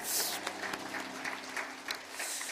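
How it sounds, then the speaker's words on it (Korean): A church congregation claps in praise after a worship song, a soft, fairly distant patter of many hands with a few sharper claps standing out, fading at the end. "영원히 다스리실 주님께 영광의 박수 올리겠습니다."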